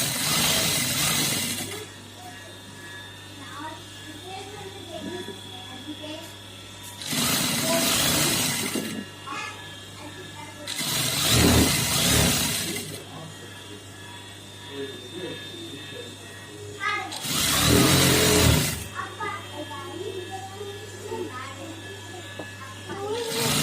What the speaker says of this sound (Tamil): நான் படிமான தையல் போடுறேன்.